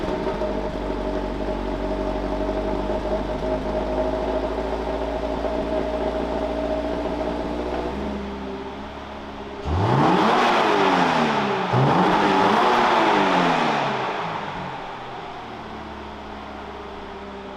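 A 2022 Toyota GR86 engine idles with a mild, even drone through its stock exhaust, then revs up twice in quick succession, rising and falling, before settling back to idle. Fairly quiet exhaust.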